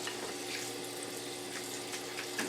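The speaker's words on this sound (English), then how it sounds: "I've got cold water going. So I'm going to cover these up with cold water." Cold tap water runs steadily into a pickle mixture for canning bread and butter pickles, a faint, continuous hiss and gentle splash with no talk.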